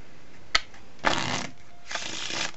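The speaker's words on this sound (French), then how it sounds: "C'est important que le spectateur mélange bien le jeu de cartes." A deck of playing cards is shuffled for a magic trick, giving a sharp riffle snap followed by two longer, close, crisp bursts of cards fluttering together, with no talking.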